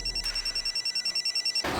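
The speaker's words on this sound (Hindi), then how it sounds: "तेजस्विनी फोन नहीं उठा रही है" A telephone rings on and off, unanswered, in a pulsing electronic trill for nearly two seconds, fairly loud and close, with a brief burst of noise at the very end and no talking.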